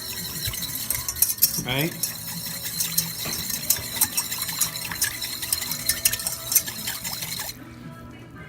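A small whisk stirs sugar into water for simple syrup, making a quick rhythmic metallic clinking and scraping against the bowl that runs throughout. A voice speaks briefly, and the whisking stops near the end.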